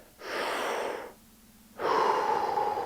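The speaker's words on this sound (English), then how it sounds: "Go ahead and take a deep breath" A deep breath drawn in steadily through the mouth, a short pause, then a longer, louder exhale, close to the microphone with no talking.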